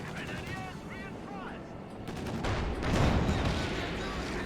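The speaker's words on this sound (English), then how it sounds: "Our headquarters is taking enemy fire." Gunfire crackles in the World War II strategy video game Company of Heroes 2, bursts of rifle and machine gun shots layered with distant booms, continuous and dense, swelling louder toward the middle.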